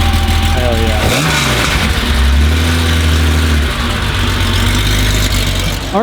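A JDM BMW's engine idles with a low, steady hum, then revs up in rising, throaty sweeps before settling back down, loud and close.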